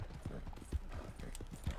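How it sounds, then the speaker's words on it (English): Horse hooves clip-clop in Red Dead Redemption 2, a run of soft, fairly close hoofbeats spaced through the moment, with the game's background noise around them and no talk over them. "a guy with a horse just appears out of nowhere"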